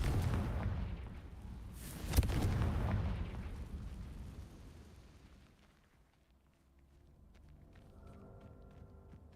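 The Confringo explosion spell in Hogwarts Legacy bursts with a loud, rumbling boom and a sharp crack at its peak, then fades into quieter game ambience.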